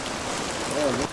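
Rain falls on a steep mountain hiking trail to Gede Pangrango in thick fog, making a steady, dense hiss throughout, with a brief voice-like tone near the end.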